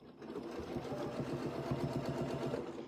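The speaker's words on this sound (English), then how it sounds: "now, once we're lined up, we'll just sew around." A sewing machine stitches around a quilt in crosshatching work, running as a steady, fast, near mechanical whir with rhythmic needle chatter throughout.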